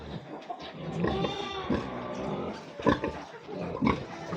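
A sow grunts after farrowing, giving close, repeated low grunts and snorts in uneven bursts.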